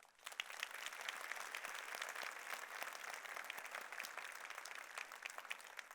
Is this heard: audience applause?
yes